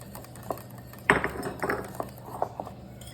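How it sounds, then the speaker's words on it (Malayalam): Flour being stirred bit by bit into cake batter in a bowl, with soft scrapes and a few sharper clinks of a utensil against the bowl, close and sporadic. "ഇളക്കി കൊടുക്കാം കുറേശ്ശെ കുറേശ്ശെ"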